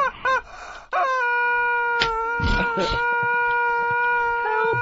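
A chicken lets out loud, drawn-out distressed squawks close by, sustained and wavering, after a few short clucks at the start.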